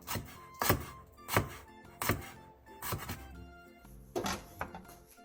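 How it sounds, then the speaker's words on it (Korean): A knife slicing a red chili pepper diagonally on a cutting board while preparing Korean side dishes, about a dozen crisp chopping taps in an uneven rhythm, close and alone. "홍고추 1개는 어슷 썰게 해주세요"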